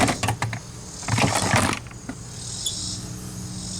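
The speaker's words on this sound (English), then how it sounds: "Oops, hit the camera." Bumping into a camera while working on a Jeep Cherokee XJ heater blower motor gives a cluster of close, sharp knocks and rattles, then quieter handling noise fading into a steady background hum.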